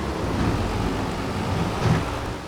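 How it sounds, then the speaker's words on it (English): Steady rain with low rumbling thunder in Farming Simulator 25, a continuous wash of downpour with a deeper roll swelling near the end. "and it's still raining."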